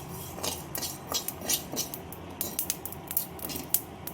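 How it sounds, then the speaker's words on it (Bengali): Panch phoron, cumin and fennel seeds dry-roasting in a kadai, with irregular light clinks and scraping taps of a spatula against metal and seeds skittering, close and moderately quiet, no voices. "এবারে সমস্ত ফোড়নটা ভালো করে শুকনো খোলায় ভেজে নেব।"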